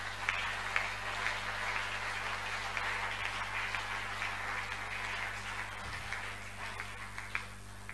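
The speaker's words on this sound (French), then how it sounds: "On acclame bien Jésus." A church congregation applauds for Jesus during a day of prayer, producing steady, moderate clapping with a faint murmur of voices throughout and no clear cheering peaks.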